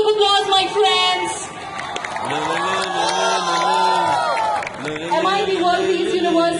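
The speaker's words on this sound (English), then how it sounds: "A huge round of applause, my friends." A university crowd at MIT World Peace University in Pune welcoming Sadhguru during the Save Soil movement cheers and shouts, with loud whoops and raised voices rising and falling over several seconds and clapping faint underneath.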